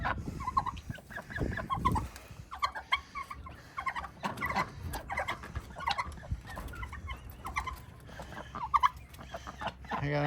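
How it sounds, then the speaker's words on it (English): Several farmyard chickens cluck and squawk close by in uneven bursts, with a brief low voice near the start. "A bunch of chickens all around him."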